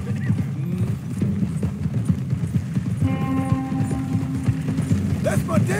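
Clip-clopping horse hooves sound close and loud in the video game Red Dead Redemption 2, mixed with clattering mechanical noise, a brief whinny and faint voices.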